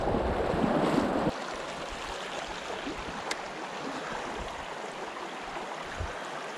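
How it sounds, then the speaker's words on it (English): Stream water rushes steadily over rocks in a Wisconsin brook trout creek, a continuous broadband wash that is louder for the first second and then settles into an even, close rushing flow with no talking. "Look at the water rushing over all these rocks."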